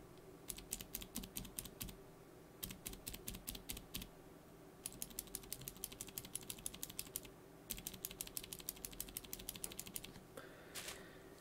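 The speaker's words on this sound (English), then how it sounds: "here is a spring-lubed MX Blue" Rapid bursts of clicky typing on a spring-lubed Cherry MX Blue mechanical keyboard switch, close and crisp, coming in several runs separated by short pauses, with a brief rattle at the end.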